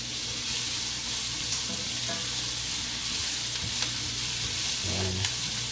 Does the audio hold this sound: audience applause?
no